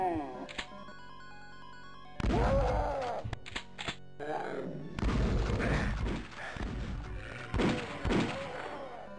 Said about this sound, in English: I really like this pistol sound.